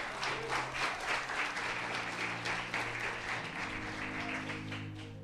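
A church congregation applauding: dense, steady clapping from many hands that holds for several seconds, fairly loud and close, with a sustained musical tone and a faint voice underneath.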